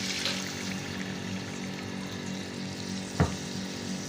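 Leftover milk poured into a sizzling chickpea masala in a pan, a continuous close hiss of frying with liquid running in steadily, ending in a brief louder knock of a utensil near the end, no talking.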